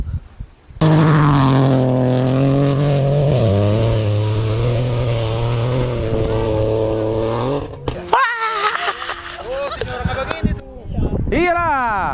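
A rally car at an APRC Sumatra rally event gives a loud, close engine drone that holds, shifts pitch and surges. It is followed by choppier revving, with people talking nearby.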